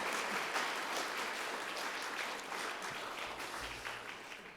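A church congregation at a Sunday worship service claps warmly for a departing evangelist, with dense, sustained applause that gradually fades toward the end.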